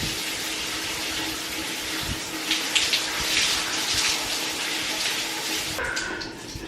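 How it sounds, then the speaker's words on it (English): Water pours steadily from a tap as conditioner is rinsed out of dry 4C coily hair, a continuous close hiss and splatter that shifts slightly as the stream is moved, with no talking. "let's get to rinsing this conditioner off"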